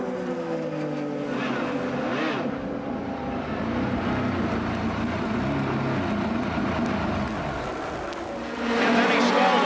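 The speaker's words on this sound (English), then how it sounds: "Listen very carefully to the engine." A loud Indy 500 race car engine drones and revs continuously, rising near the end, with a voice talking over it.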